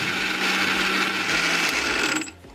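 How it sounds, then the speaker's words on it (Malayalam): A steady, loud whirring grind of a kitchen mixer grinder blending fruit custard continuously, then cutting off abruptly near the end. "എന്നിട്ട് ഇത് മിക്സിയിൽ നന്നായിട്ട് മിക്സ് ചെയ്തെടുക്കുന്നു."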